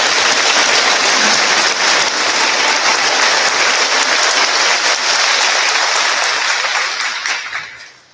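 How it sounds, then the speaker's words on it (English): An audience applauds a graduating class at a Class of 2021 cord ceremony. Loud, dense clapping fills the room close by for several seconds, then tapers off quickly at the end. "Please give them all a round of applause."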